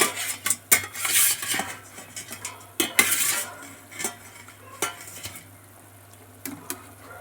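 Small rohu-type fish pieces slipped one at a time into boiling thin curry in a metal pot, with repeated clinks of a utensil against the pot and soft splashes, close and moderately loud.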